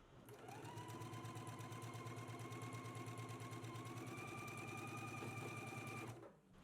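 A sewing machine runs steadily for about six seconds, stitching the side seams of a summer top at a 5/8 inch seam allowance, with a rapid even needle rhythm, close and alone before stopping.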